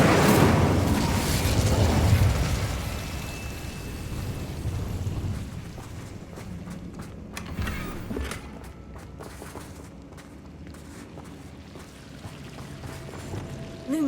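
Hogwarts Legacy's Incendio fire spell bursts with a loud, roaring whoosh at the start, then fades into crackling flames and softer game ambience and footsteps.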